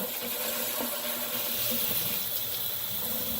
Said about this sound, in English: It's best to really rinse it in cool water to get that color to lock in.